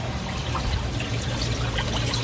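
Water rushes and trickles steadily from a Jebao DCP 18000 return pump in an aquarium, a continuous close, even flow with no break and no talk.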